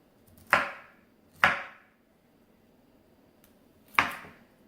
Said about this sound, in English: Cut them up somewhat small so it's easier.